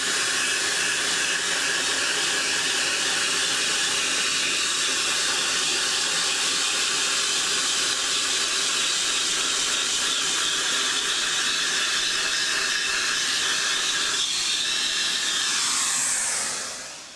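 A vacuum cleans an IBM Beamspring 3277 keyboard circuit board, making a loud, steady hissing airflow roar that holds for over a quarter minute and then cuts off at the end.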